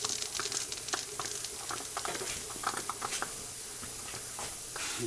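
A fairly large model steam engine with a one-inch bore and 1.25-inch stroke runs off a boiler heated by a 1300-watt heater, giving a steady close hiss and patter of escaping steam with faint rapid puffing, no voices.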